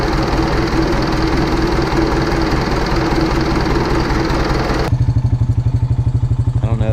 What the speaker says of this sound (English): That engine sure sounds good.